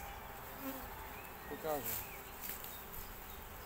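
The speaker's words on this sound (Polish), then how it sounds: "Tu jest trochę pszczół." A dense, steady buzz of many honey bees fills the air around a hive, with a brief quiet spoken word partway through.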